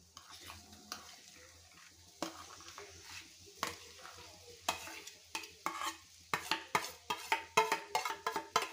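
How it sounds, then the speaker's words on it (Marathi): Mashed potatoes with turmeric are stirred and sautéed in oil for vada pav bhaji, with soft frying beneath a run of spoon scrapes and clanks against the pan that grow louder and quicker toward the end. "आणि व्यवस्थित असं याला तेलामध्ये परतवून घ्यायचं अशा प्रकारे।"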